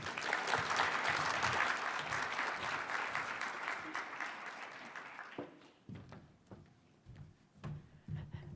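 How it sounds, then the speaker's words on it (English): Applause from a conference audience at a digital inclusion event rises full and continuous, then thins and fades after about five seconds into scattered claps and room noise. "Let's give a round of applause to the lightning round speakers."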